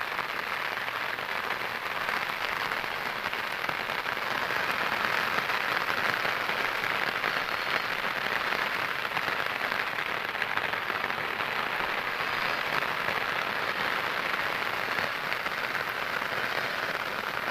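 Steady monsoon rain pours down over a Bengal village, a dense, even hiss of drops hitting wet surfaces and standing water, continuous and unbroken throughout with no voices.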